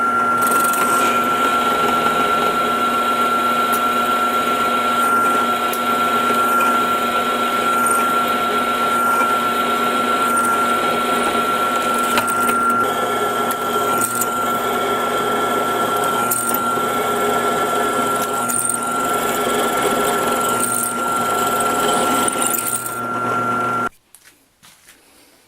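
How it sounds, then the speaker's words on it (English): A drill with a number 21 bit runs steadily for over twenty seconds, drilling tap holes for 10-32 threads, with a constant whine and slight fluctuations as it bites, then cuts off abruptly near the end. "Now I need to drill them through with a number 21 drill"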